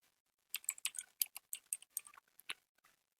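Rapid keystrokes on a computer keyboard as names are typed into a search bar, a quick run of close, crisp clicks with a short pause near the end and no talking.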